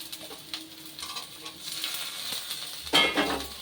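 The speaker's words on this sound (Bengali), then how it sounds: "এবারে আলু, পেঁয়াজ, কাঁচা লঙ্কা, রসুন দিয়ে এটাকে একটু ভাজা ভাজা করে নেব।" Potatoes, onions, green chillies and garlic sizzle and crackle steadily in hot oil, with a louder burst of frying and scraping stirs near the end; no talking.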